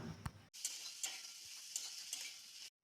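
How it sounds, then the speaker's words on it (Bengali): Capsicum and green chilies stirred in hot mustard oil in a wok sizzle strongly for about two seconds. A dull knock comes first, and the sizzle cuts off abruptly at the end. "কেটে রাখা ক্যাপসিকামগুলো তেলের মধ্যে দিয়ে বেশ কিছুক্ষণ একটু নাড়াচাড়া করে নিতে হবে"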